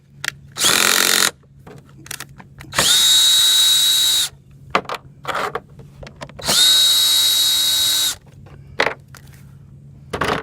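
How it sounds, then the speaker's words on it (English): Power drill backing screws out of a Champion generator during teardown: three loud whirring bursts of a few seconds each, with quiet clicks and handling noises between them. "Take out the 7mm and then we'll get these screws."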